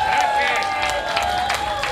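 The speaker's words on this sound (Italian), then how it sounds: "Un applauso a Pietro Ubaldi." An audience applauds dubbing actor Pietro Ubaldi at a talk on voice dubbing: dense, sustained clapping from a crowd, loud and even throughout, with a steady tone running underneath.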